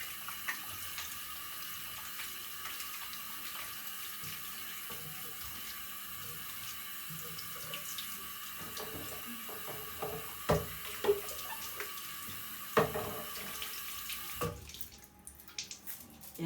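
Warm tap water runs from a faucet into a sink during handwashing, a steady close hiss with scattered splashes and knocks toward the end before the flow stops.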